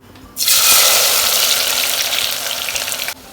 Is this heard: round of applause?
no